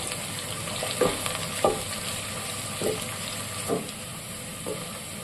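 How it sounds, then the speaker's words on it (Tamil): A steady sizzle of sliced large onions frying in hot oil for chicken dum biryani, broken by several soft scraping stirs at irregular intervals. "பெரிய வெங்காயத்தை எண்ணெயில் வதக்கிக்கிடுவோம்"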